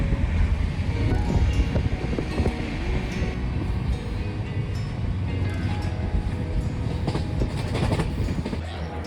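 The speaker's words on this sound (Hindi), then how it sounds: "तो ये जो हमारी जो ट्रेन है ना" The New Delhi to Indore Superfast Express runs along the rails, a steady close rumble with rhythmic wheel clatter and wind buffeting, heard from on board with no talking.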